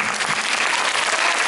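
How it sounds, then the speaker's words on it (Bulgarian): A brief, loud burst of dense audience applause for the organiser, Mr. Parishkov, at a children's gala concert, many hands clapping steadily and close. "Още малко овации"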